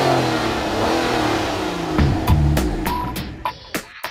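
A 6-litre V12 in an Aston Martin DBS Volante idles and builds, then is blipped through several sharp revs that rise and fall in quick succession, close by.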